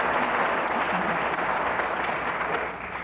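Audience applause at a televised 1988 Minnesota Senate debate, a steady wash of many hands clapping at moderate distance, tapering slightly toward the end.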